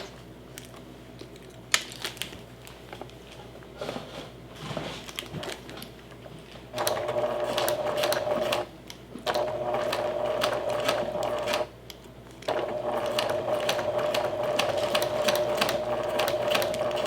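Sewing machine backstitching a fabric seam, with short mechanical stitching runs broken by brief pauses and light clicks, steady and close.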